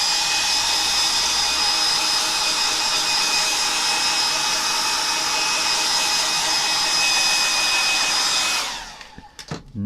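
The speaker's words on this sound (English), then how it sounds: "I'll just get my hairdryer to it a little bit more" A hair dryer blows on a painting with a loud, steady whine for several seconds, then switches off, leaving a few soft clicks.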